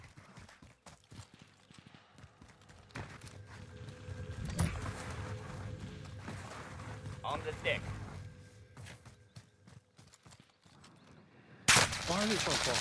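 Bursts of video-game gunfire crackle through a live-streamed match, scattered shots and rapid volleys at moderate distance, with a sharp loud burst near the end.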